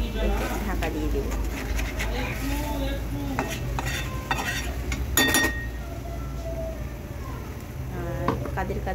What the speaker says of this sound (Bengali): জল দেওয়ার পর ভালো করে নেড়ে ঢাকা দিয়ে দেব।